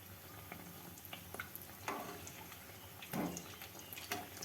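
Flaky khasta khaja pastries fry slowly in oil over a low flame, giving a faint, continuous sizzle and bubbling with a few soft clinks and stirring knocks scattered throughout.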